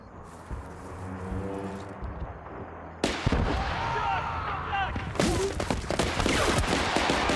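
Heavy artillery booms and crackling volleys in Battlefield: Bad Company, with a sharp blast around the third second followed by sustained rumbling fire and a second strong burst later, loud and close.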